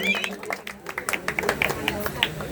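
An audience at a Shiv Jayanti cultural program claps in scattered, uneven bursts of sharp hand slaps that grow denser, mixed with voices talking over them.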